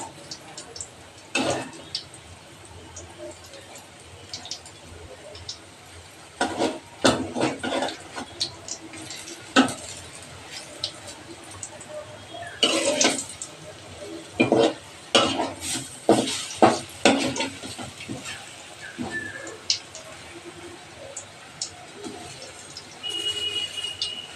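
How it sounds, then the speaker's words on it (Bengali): Lentil fritters (dal bara) fry in hot oil, giving a steady crackling sizzle broken by sharp clinks and stirring clatter from the pan. "দেখো বড়াগুলো ভেজে নিচ্ছি"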